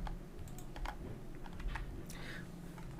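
Computer keyboard keys are pressed quickly and faintly to delete text, with scattered soft taps over a low background hum.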